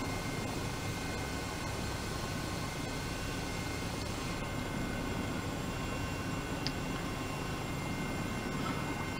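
A Eurocopter EC 135 helicopter in Microsoft Flight Simulator 2020 gives a steady, dense rotor and turbine drone at constant loudness, with faint tonal whines riding on top and no talk.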